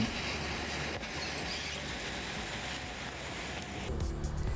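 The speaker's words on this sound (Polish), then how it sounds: "warto polecić przejażdżkę hajnowską kolejką wąskotorową." A narrow-gauge railway train rolls along steadily through forest near Hajnówka, Poland, its broad rumble and rattle filling the whole stretch, with a brief rise in clatter near the end.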